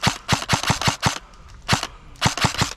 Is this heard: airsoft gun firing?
yes